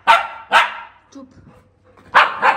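A puppy, its coat shaved for summer heat and an allergy, barks close by: two sharp yaps, a pause filled with faint low murmuring, then two more quick barks.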